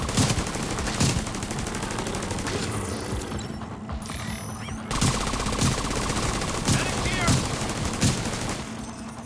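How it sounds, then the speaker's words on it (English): Gunfire in The Division 2 shooter game rattles in rapid bursts and single sharp shots, loud and near, with brief mechanical clicks and a short lull around the middle. "Was that 5 missed shots in a row?"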